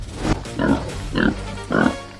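A farm pig in its sty gives three close, loud grunts in an even rhythm, each a short throaty burst.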